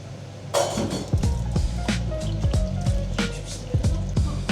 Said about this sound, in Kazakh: мен қазір үстіне тағы да аз мөлшерде су құямын